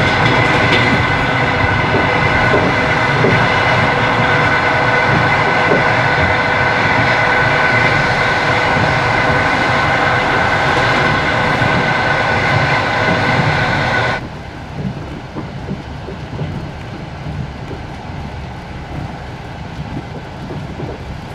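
Passenger train No. 360 runs through Belarus, heard from inside as a loud continuous rumble and roar of the carriage in motion, until the sound abruptly drops to a quieter hum and rattle partway through.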